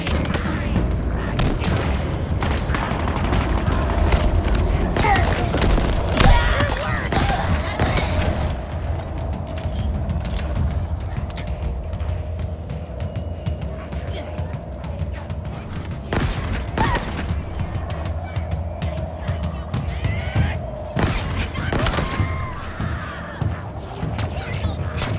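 Halo Infinite battle gunfire keeps up across the whole stretch: sharp, loud shots and bursts with heavy booms, dense and irregular, and some talk mixed in.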